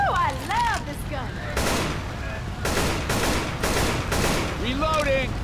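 Rapid bursts of gunfire from the zombie shooter game Left 4 Dead 2, several loud broadband volleys in quick succession, mixed with game voices and chatter around them.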